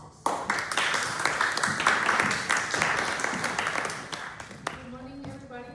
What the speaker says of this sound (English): Please give an applause for Dr. Oces.